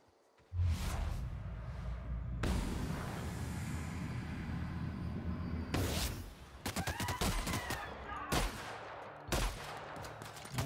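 Gunfire in The Outer Worlds video game: loud bursts of rapid shots with whooshing effects, sustained volleys broken by short pauses and sharp clusters of close shots.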